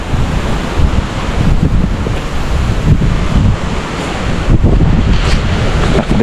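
Strong wind blows during Super Typhoon Uwan, a loud, steady roar buffeting the microphone, with surging gusts and rushing water beneath, continuous and close for the whole stretch, without voices.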